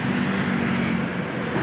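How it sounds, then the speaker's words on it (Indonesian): An ALS intercity bus passes on the road during holiday homecoming traffic, its steady engine drone and tyre roar filling the short stretch evenly and fairly loud with no talk. "Ah tuh ada ALS lewat tuh."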